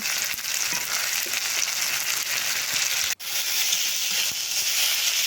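Tomato with ginger-garlic paste and cumin paste sautéing for crab curry, a steady close broadband sizzle running throughout with a brief dropout near the middle.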